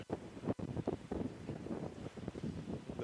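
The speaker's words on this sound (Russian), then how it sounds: "Да, капец ветер." Strong storm wind on a seafront gusts across the microphone in rough, uneven bursts with low rumbling buffeting, fairly faint overall and with no talk.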